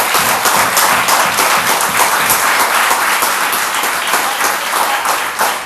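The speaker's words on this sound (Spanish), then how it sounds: "¿Será que la iglesia le puede brindar un aplauso al Dios de la gloria?" Church congregation applauding loudly and continuously, a dense close wash of many hands clapping that holds steady for several seconds with no talk over it.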